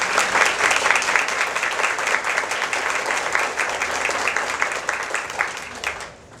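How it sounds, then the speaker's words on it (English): An audience at a ladies' charity luncheon applauds with steady, dense clapping that fills the room for about six seconds and then quickly dies away. "please give them another round of applause."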